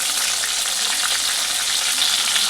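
Green chili and tomato frying in hot oil in a pan for a quick ghugni, giving a dense, continuous sizzle close up, with faint stirring and no voices.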